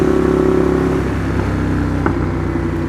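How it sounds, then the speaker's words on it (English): A 2015 Ducati Monster 821 fitted with a Competition Werkes exhaust, a loud, close, steady engine drone that dips slightly partway through, with a brief click near the end. "the Competition Werkes exhaust is unbelievable. So aggressive, so mean."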